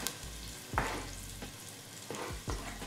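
Shallots sizzling in a pan, a steady crackling fry with a few sharper pops and stirring scrapes, close and clear with no voices.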